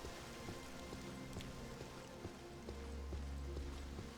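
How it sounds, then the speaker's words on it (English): Steady rain falls in Morrowind near the small imperial town of Pelagiad, a dense continuous patter with occasional sharper drops and a low ambient hum beneath it. "Really need to get out of the rain."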